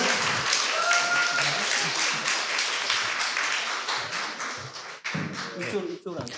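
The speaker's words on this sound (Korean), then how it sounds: "박수" An audience at a public broadcast claps to welcome a guest, brisk applause that fills most of the stretch and then thins out, with a voice speaking near the end.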